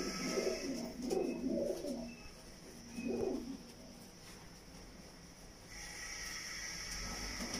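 A female pigeon coos nearby in a few soft, throaty bursts, then falls quiet against a faint background hiss.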